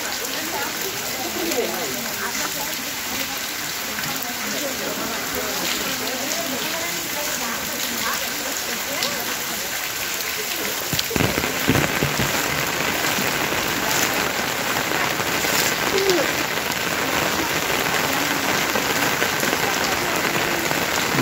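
Heavy rain pours steadily over the Mahanandi temple grounds in Kurnool, a dense hiss of drops hitting surfaces and pooled water, continuous and loud throughout.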